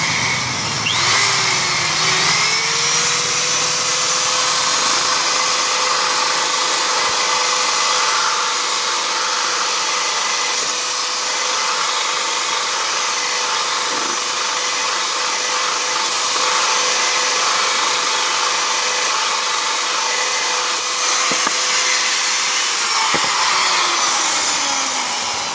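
A machine sharpens a wooden hand plane's blade with a loud, steady high-pitched grinding whine that holds a constant tone for over twenty seconds, close and alone, then spins down at the end.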